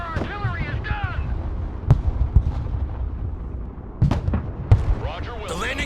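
Artillery fire in Broken Arrow, a battle in the Baltics: a few sharp booms and distant detonations land among radio chatter from game voices.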